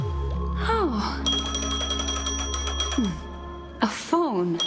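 A phone rings in Honkai Star Rail with a bright, layered electronic chime that repeats in bursts, partly under a character's voice and other game tones.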